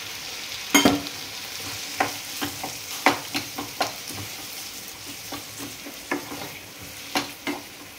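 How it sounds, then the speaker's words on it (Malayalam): Boiling water poured into a sizzling pan of Kerala-style cooking and stirred, a steady soft sizzle broken by a string of sharp spoon scrapes and knocks against the pan, no voices. "ഇനി നമുക്ക് ശകലം വെള്ളം ഒഴിച്ച് കൊടുക്കാം."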